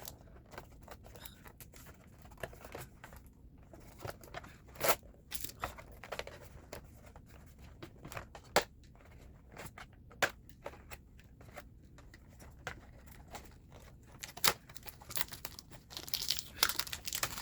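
Sticky tape being peeled and pulled off the packaging of a Monster High Werecat Twins doll box, close crinkling and tearing crackles in irregular bursts, busier toward the end, with no talking.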